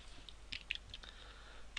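Code typed on a computer keyboard for a Unity 3D game script: a few soft, scattered keystroke clicks, faint and close, over a quiet low hum.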